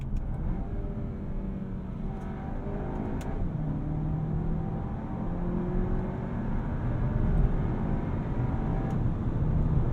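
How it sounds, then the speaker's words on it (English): A 2024 VW Arteon accelerates in manual mode with dual-clutch paddle shifts: a steady, close engine drone from inside the cabin climbs in pitch, then drops sharply at each quick gear change, repeating several times. "I'll utilize these paddles, which do prompt quick shifts."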